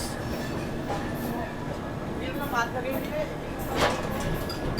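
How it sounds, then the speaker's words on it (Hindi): The Farakka Express slows under braking, a steady low rumble of the train with faint squeals and a few metallic clanks, heard from inside the coach over background chatter. "चलिए, ब्रेक लग चुके अपनी ट्रेन के"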